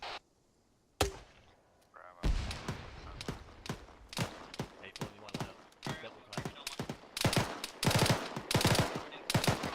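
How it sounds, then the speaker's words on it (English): Gunfire in the military shooter game Squad, with many sharp shots in rapid bursts and single cracks, some near and loud, others farther off, continuing steadily after a brief quiet opening. "I got shots coming in the left side of the bunker, bearing 210."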